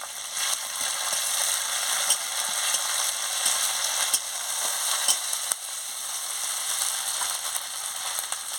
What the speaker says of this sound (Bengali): এবার আমি আদা বাটা, রসুন বাটা দিয়ে দিচ্ছি, দিয়ে ভালো করে ভেজে নিচ্ছি।